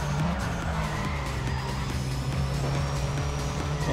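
A race car braking hard with the handbrake in Need for Speed ProStreet, tires skidding and squealing over a loud steady engine drone throughout.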